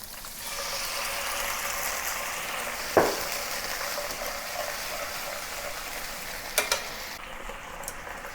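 Prepared sauce hits a hot pan of fried ginger and scallion, a soft steady sizzle broken by a sharp splash and a couple of later clinks, fairly quiet overall.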